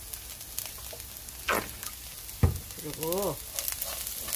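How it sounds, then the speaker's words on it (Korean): Small dried anchovies stir-frying in oil in a pan while being made into a sweet side dish, a steady close sizzle with a few sharp scraping stirs; someone speaks briefly over it. "볶아줘요"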